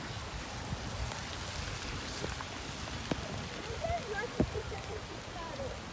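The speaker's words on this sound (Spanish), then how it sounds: "Mira, está lloviendo." Steady rain patters and hisses outdoors during Halloween trick-or-treating, with a few sharper drips and faint voices in the background.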